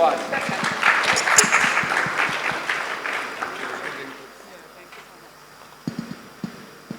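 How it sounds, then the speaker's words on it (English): Audience applause at a partnerships panel event, a broad wash of clapping that swells early, then fades and thins out, with scattered claps near the end. "Huge round of applause, ladies and gentlemen."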